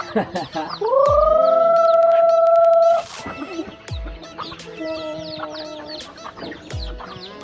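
Chickens cluck and squawk close by in a rural province yard, with one bird giving a long, loud sustained call, while people talk over the flock.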